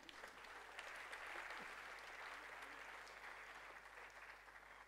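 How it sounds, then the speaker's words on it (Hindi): Audience applause at a centennial celebration event, a steady, even wash of clapping held throughout, faint and distant with a low hum underneath. "जोरदार तालियों से स्वागत"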